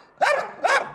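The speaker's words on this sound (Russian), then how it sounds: "Такая испанская собака. Терьер, вроде моего, как мой побольше." A Spanish terrier barks twice in quick succession, sharp, close and loud, with nothing else heard around it.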